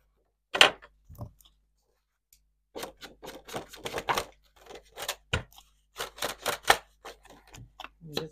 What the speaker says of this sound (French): Il n'y a plus de bruit de claquement en fait quand je posais ma main là.